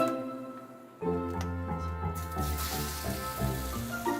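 Cooking oil sizzling in a pan, a steady hiss that starts suddenly and carries on loud and close, with faint ticking and clattering mixed in.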